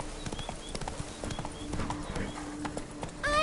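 Rapid clip-clop hoofbeats of Roach, Geralt's horse in Witcher 3: Blood and Wine, galloping at a steady fast rhythm close up, with a brief whinny near the end.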